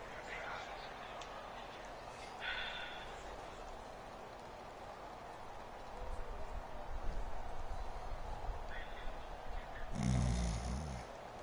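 A person snores in slow, rough rhythmic breaths beneath other noise, with voices talking in the same stretch.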